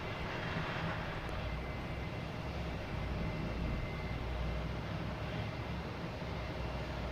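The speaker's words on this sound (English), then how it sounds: "15 right, clear for takeoff. That is British Airways A380." A British Airways A380 taking off from runway 15 right at Boston Logan, a broad, continuous engine roar that stays loud and steady throughout, with no pauses.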